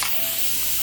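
A steady, close hiss of soapy liquid spraying from the nozzle of a cordless, battery-powered pressurized foam gun, continuous and even for under a second with no voices.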